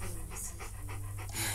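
A dog pants in The Walking Dead: The Final Season video game, with quick rhythmic huffs repeating steadily and close up over a constant low background hum.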